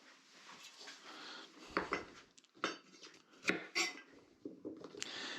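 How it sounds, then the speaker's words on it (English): Quiet, irregular knocks and taps of a knife striking a cutting board, several sharp hits spaced unevenly with soft clatter between. "This knife cuts into the chopping board same as it does the vegetables."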